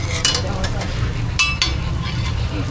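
Omelette with salt, chili and spices sizzling on a food-court griddle in Hassan, with a steady hiss of frying, a few metallic clinks of a spatula, and busy background noise throughout.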